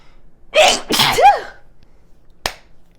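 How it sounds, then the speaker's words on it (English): Two sharp sneezes in quick succession, close and loud, followed by a short breathy sniff after a pause. "I have to sneeze again."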